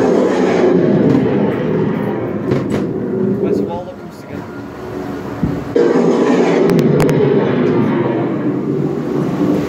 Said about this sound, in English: We're on the coral island ghost train.